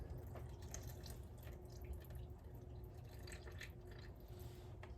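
Broth trickles and splashes in a steady stream into flour against a noisy kitchen background, with small drips scattered throughout.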